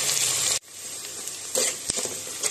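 Onion sautéing in a pan gives a steady close sizzle with a brief drop near the start, then stirring scrapes and clicks come back over the frying hiss.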